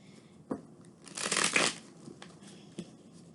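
A deck of cards is shuffled by hand in one brisk riffling burst lasting under a second, framed by a few soft taps and handling noises in a quiet room.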